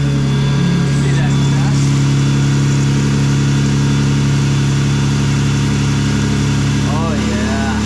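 A Jeep engine idles steadily after a repair and makes a loud, even, low hum close to the listener. Someone talks briefly over it.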